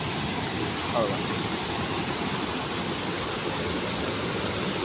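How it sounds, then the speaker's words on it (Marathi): The Ainwahal waterfall near Roha pours with a strong, heavy flow, making a steady, even roar that never lets up, heard from a moderate distance. "हा जो धबधबा आहे ना, हा एक जबरदस्त धबधबा आहे"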